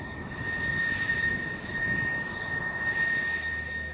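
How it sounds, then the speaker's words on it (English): A QF-16, an F-16 fighter jet converted into a pilotless aerial target, flies overhead with a steady, loud, continuous engine roar and a sustained whine, no voices present. "The QF-16 converts an F-16 into a full-scale aerial target that can fly without a pilot on board."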